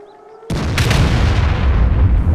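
A heavy cannon shot booms out in a 3v3 Commander video game match, one loud sudden blast followed by a long rumbling roar that holds steady to the end.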